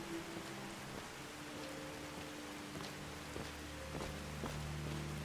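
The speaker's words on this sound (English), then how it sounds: "I actually need to wait for this rain to pass" Steady rain in the video game Skyrim, a constant soft hiss with scattered drop ticks, accompanied by a faint low background hum throughout.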